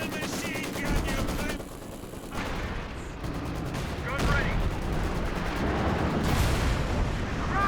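Werfer rocket artillery barrage in Company of Heroes 2, a dense rumble of rapid gunfire and booming impacts mixed with whooshing launches, with a commentator talking over it.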